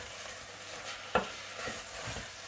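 Brussels sprouts stirred in a pan as they cook, a soft steady sizzle with one sharp scrape of the utensil partway through and quieter stirring sounds after.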